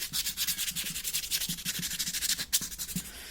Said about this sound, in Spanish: puedo empezar a suavizar las líneas de impresión pues con papel de lija, de esta manera